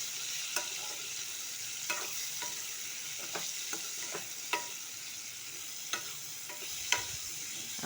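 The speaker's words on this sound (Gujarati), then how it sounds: "જીરું નાખીશું, તેમાં સમારેલી ડુંગળી, લીલા મરચાં નાખીને સાંતળી લઈશું આપણે" Cumin, chopped onion and green chillies sauté in a pan with a steady, quiet sizzle, broken every second or so by the sharp tap of a spoon against the pan as the mix is stirred.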